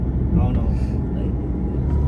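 An airplane passes overhead near Dubai, a steady low rumble that holds throughout and stays moderately loud.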